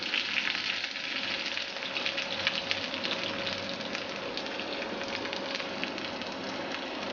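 Small shallots and mustard seeds fry in hot oil for a Kerala pulissery tempering, a continuous close sizzle scattered with sharp pops and crackles as the seeds burst.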